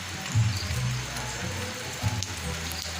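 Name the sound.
rain at night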